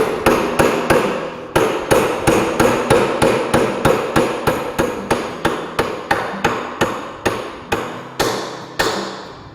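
A wooden dowel is hammered through a wooden table leg, a long run of sharp, loud, evenly paced hammer blows with a few brief pauses between strikes, close up and with no talk.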